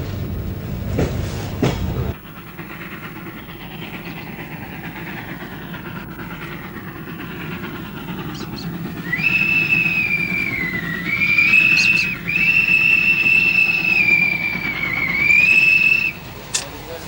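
A 1970s train carries Turkish migrants westward through the Balkans, a steady rumbling roll inside the carriage with a sharp clatter at the start and a long wavering whistle rising over it in the second half.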